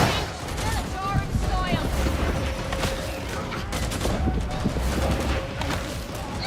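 Gunfire in a military-style video game, a dense rapid fusillade of shots and booms running continuously, loud and close, over busy in-game background noise.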